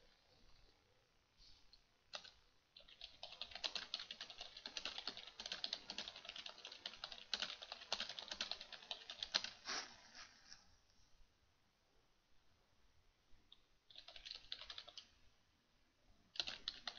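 Steady typing on a computer keyboard, close and fairly quiet, in a long run of rapid key clicks that pauses briefly, then resumes in a shorter burst near the end.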